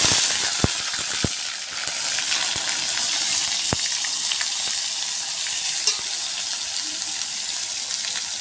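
Dried red chilies, onion and green chilies fry in hot oil in a pan, giving a steady, close sizzle throughout with a few sharp crackles and pops.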